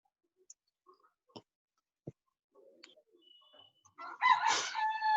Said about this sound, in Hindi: मुर्गा का आवाज आ रहा है